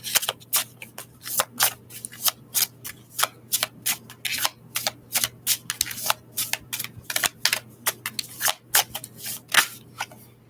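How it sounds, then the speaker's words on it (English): A deck of tarot cards is shuffled by hand, close and crisp, in a rapid run of papery riffles and flutters with short gaps, over a faint steady hum and no talking. "I want to do one more shuffle on this deck"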